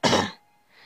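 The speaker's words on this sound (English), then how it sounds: "Explain why I'm coughing. It's just my throat's a little dry." A man gives a short, dry cough with some throat clearing, a single loud burst up close that fades quickly into near silence.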